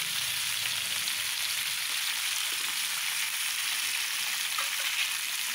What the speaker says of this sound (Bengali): এখন তাহলে আমি মাছগুলো ভাজতে থাকি।